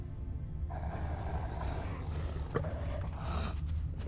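A wild cat in the video game Witcher 3 gives a low, rough growl, moderately near and sustained for a few seconds against a dense game soundscape.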